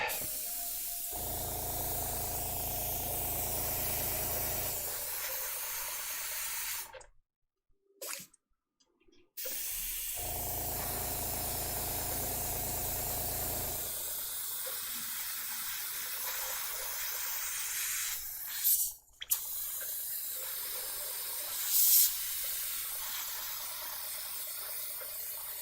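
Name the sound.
spraying another coat of paint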